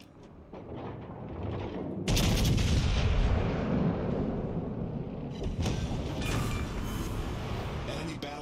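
Battleship main guns fire in World of Warships Legends: a heavy, booming salvo erupts and rolls on as a long, thick rumble, with further blasts layered on top near the end.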